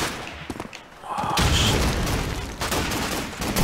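An MP40 submachine gun fires in the World War II shooter Call of Duty 2, with loud, sustained bursts and booming blasts following a quieter opening.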